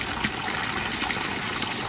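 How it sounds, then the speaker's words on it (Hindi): Water flows out on its own from a natural outlet, a continuous rushing trickle that fills the scene evenly and close by, with no voices. "यहाँ से खुद से पानी आ रहा है, देखो देखो पानी आ रहा है खुद से"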